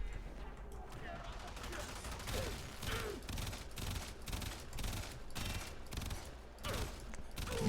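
The Kuva Hind rifle fires in Warframe, a fairly faint run of rapid, regularly spaced bursts of gunshots over several seconds, mixed with low background noise.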